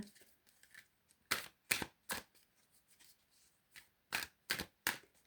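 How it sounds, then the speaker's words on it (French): Tarot cards are shuffled in bursts: several crisp riffling flutters, close and fairly quiet, separated by softer handling rustles, with no voices. "Allez, on va ajouter encore une carte."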